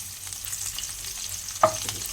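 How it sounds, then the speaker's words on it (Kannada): Cumin seeds, fresh curry leaves and garlic frying in a pan, a soft continuous sizzle with a single sharp clink of a utensil against the pan, close and brief, no talk. "ಇದನ್ನು ನಾವು ಇವಾಗ ಚೆನ್ನಾಗಿ ಫ್ರೈ ಮಾಡ್ಕೋಣ"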